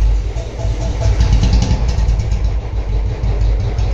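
A Royal Enfield Bullet motorcycle engine after a service, running with a steady, loud low thump that holds through the whole stretch with slight swells, no voices over it.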